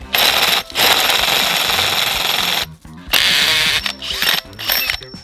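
A rotary masonry hole saw bit is fitted into a Keyang DM18BL-W cordless drill, giving loud, harsh mechanical ratcheting in long bursts broken by a few short pauses, very close.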